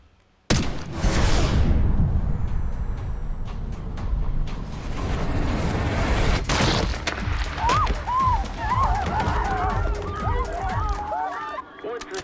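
A gunshot rings out in Call of Duty: Black Ops 6, one sharp report around the middle over a busy bed of game music and ambience, with a voice speaking near the end.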